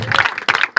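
Congregation at a church service clapping together, short loud bursts of applause in three quick waves within under a second.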